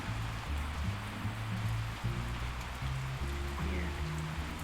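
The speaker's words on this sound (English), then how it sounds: "It's raining here. It always rains here." Steady hiss of rain in a metaverse roleplay game, falling continuously at moderate level beneath soft tonal background music, with no voices.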